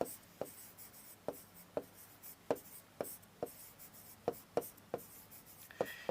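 Chalk or marker strokes on a classroom board during a history lesson, a steady run of sharp, short taps and scratches, close and clear, with no talking over them.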